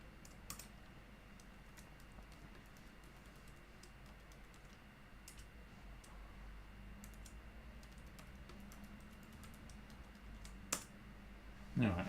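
Faint, quiet keystrokes on a computer keyboard during a Raspberry Pi 5 setup, sparse clicks over a steady low hum, with a couple of louder taps near the end.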